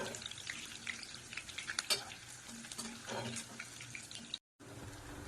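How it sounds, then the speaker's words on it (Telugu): Dried red chillies frying in hot oil for mango pulihora, a busy crackling sizzle with scattered pops and scraping stirs, fairly faint and close, cut by a brief silence near the end. "ఎండుమిర్చి కూడా వేయించుకొని చాలా వేడిగా ఉంది."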